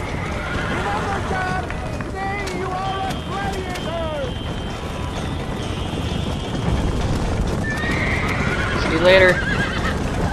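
Galloping horses in a horse race in Red Dead Redemption, with steady hoofbeats, whinnying and neighing throughout, and a person speaking briefly over the noise.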